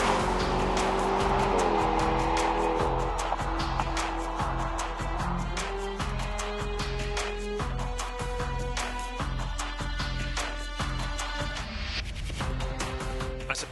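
A BMW 650i Gran Coupé drives hard, its engine revving up and down through gear changes with tire noise, loud and continuous throughout.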